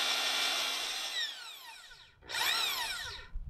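Two bursts of grinding, crunchy drilling into a log with a ship auger bit, a long one then a short pause and a second shorter burst, close and fairly loud.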